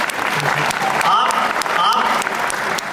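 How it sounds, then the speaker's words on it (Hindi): An audience at a poetry gathering at IIT Patna claps, a dense, loud and sustained round of applause that fills the whole stretch. "तालियां तालियां एक बार बजा दीजिए"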